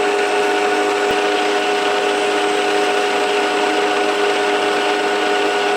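A lathe runs during a test run and plunges down 1 millimeter, making a steady, loud, even mechanical hum with a constant tone throughout.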